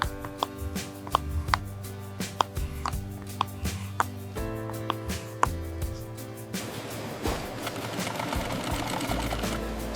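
An industrial sewing machine stitches cow leather in a leather goods factory, a steady mechanical whir with regular ticking needle strikes, close and continuous, shifting to a denser rattling pace in the second half, with no speech.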